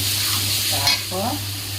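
Spices frying in a pan while being stirred, a steady sizzle with a low constant hum, scraping strokes of the spoon and a brief louder clatter near the middle, with no voices.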